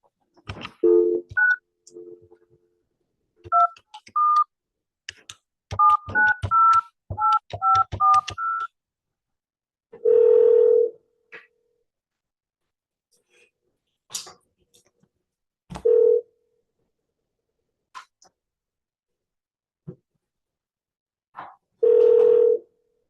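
Telephone tones after a hung-up call, a run of short dialing beeps followed by spaced, longer steady tone bursts with silence between them, clear and alone.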